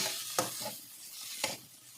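An egg drops into hot oil in a pan while cooking egg curry, with a soft hiss underneath and two sharp clacking hits spaced about a second apart.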